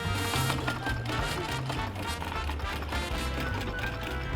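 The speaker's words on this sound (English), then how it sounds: "this will be one of my first times using a sewing machine like this" A foot-pedal sewing machine runs steadily nearby, a fast mechanical whirring and ticking that continues throughout without pause.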